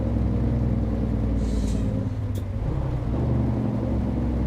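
An International truck engine in American Truck Simulator, heard from the cab as a loud, steady low diesel drone with a brief hiss partway through and a slight dip in the middle.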